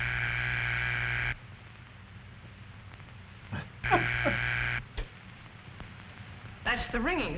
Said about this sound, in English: That's the ringing signal.